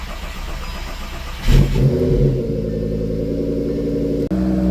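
A 2012 turbocharged VW Golf engine starts up after storage: the starter cranks briefly, the engine catches with a short rev, then settles into a steady, close idle.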